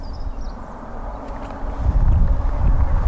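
Wind blows outdoors beside water during a fishing match, a steady low rumbling buffet on the microphone that grows stronger in the second half.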